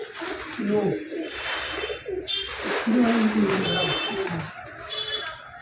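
Pigeons coo steadily in low, throaty murmurs, with several birds overlapping against a busy background and a voice speaking now and then.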